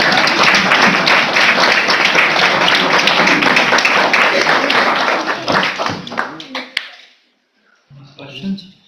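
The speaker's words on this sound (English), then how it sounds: "Let's give these wonderful kids a round of applause." An audience at a February 2025 board meeting claps for a group of children in a loud, dense burst of applause that runs for several seconds, then thins out and stops, followed by a few quiet voices.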